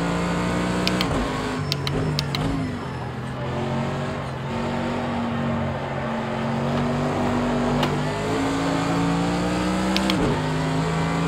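A Mercedes AMG GT3 race car engine in Project Cars 2 drones loudly and steadily, with pitch rising and falling through gear changes and sharp shift clicks at intervals.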